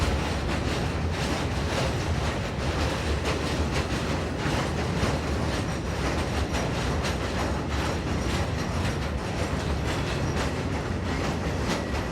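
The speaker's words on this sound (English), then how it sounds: "In this view, G6 Loco number 635 positions this rake of loaded wagons." G6 locomotive number 635 moves a rake of wagons loaded with steel coil at a steelworks, a loud, continuous rumble with rhythmic wheel clatter from close by and no talk.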